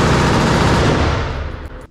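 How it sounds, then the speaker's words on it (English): A custom short-barreled M4 rifle fires a loud, dense volley at a machine gun range, the sustained crackling roar filling the clip before tailing off near the end. "Next up was a custom short-barreled M4 called the Chihuahua."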